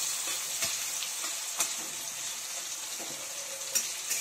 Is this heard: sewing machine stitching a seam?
no